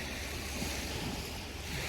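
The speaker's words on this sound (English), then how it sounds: "And the waves are looking a little choppy right now." Choppy waves wash steadily at Meyers Beach in the Apostle Islands, a continuous broadband surf rush with wind buffeting the microphone throughout and no talking.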